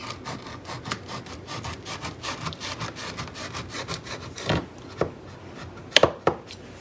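A knife slices through a tray of cooled gluten-free cookies, giving a quick run of rhythmic scraping strokes followed by a few sharper, isolated cuts and clicks on the pan, close and fairly clear.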